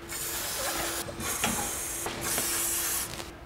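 Quick hissing blasts of penetrating fluid spray onto rusted bolts on a stripped E36 BMW M3 donor car, three close bursts in a row with short breaks.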